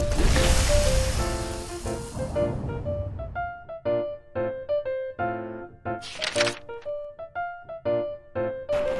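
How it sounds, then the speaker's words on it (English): Water gushing from a long, heavy fire hose attached to a fire truck opens with a loud, broad whoosh lasting about two seconds. It then fades beneath bright, plucked music. "The water gushes out very fast."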